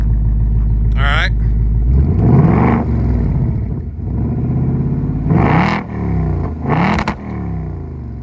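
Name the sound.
2024 Ford Mustang active exhaust revving in track mode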